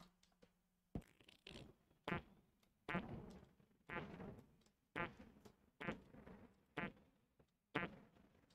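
Repeated fart noises from a fart ship in a video game, eight or so short, sputtering bursts at a steady, roughly one-per-second rhythm, fairly loud and close, with no talking over them.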